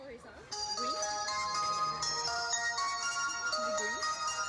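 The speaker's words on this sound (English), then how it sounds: "once your order is ready, it gets sent out on the belt, and you hear a sound notification when it's getting close." A chiming electronic jingle rings out at a conveyor-belt sushi chain in Japan to announce an order arriving on the belt, a clear melodic tune played over a voice speaking nearby.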